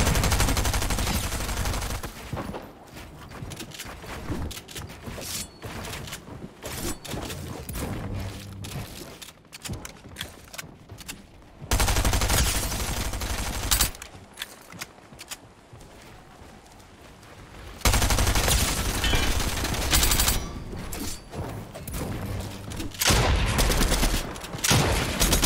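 Bursts of rapid gunfire in the video game Fortnite come in loud sustained volleys separated by quieter gaps, the shots crackling densely throughout with no talk over them.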